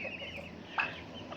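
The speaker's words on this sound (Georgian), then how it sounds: "ეს არის მამალი." A rooster gives one short cluck, moderately close, over a steady low farmyard background hum.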